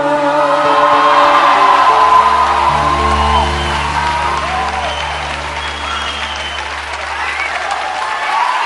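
Audience applause at a Vietnamese televised dance competition final, sustained dense clapping from a large crowd with scattered whoops and cheers, mixed with a lingering musical tone from the stage and holding steady throughout.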